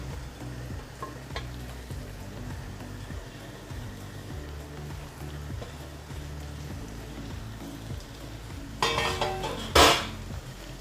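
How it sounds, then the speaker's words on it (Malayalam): Long-cut mango pieces are stirred into a pickle mixture in a pan, giving a low, continuous bubbling sizzle. Faint scrapes sound now and then, and a louder clatter of stirring comes near the end. There is no talking. "നന്നായിട്ട് ഇളക്കി കൊടുക്കാം."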